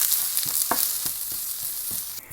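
Ground coconut masala roasts in a pan over a medium flame for Kerala erissery, giving a steady close sizzle broken by a few soft scraping strokes of stirring.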